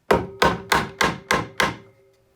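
Six evenly spaced sharp taps ring out close and clear on a dust collector impeller being trued for runout, each knock fading quickly, with no talking.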